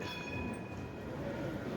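Faint, distant rail ambience fills Frankfurt's main train station, with a low rumble of trains and a soft, high tonal whine over the general hum of the station.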